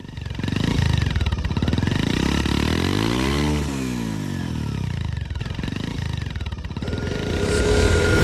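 A motorcycle engine runs steadily up close, revving with a rising and falling pitch sweep midway before settling back into a loud, continuous drone.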